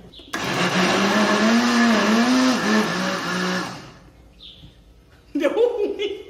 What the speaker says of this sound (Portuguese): Deu ruim, o liquidificador não tá aguentando.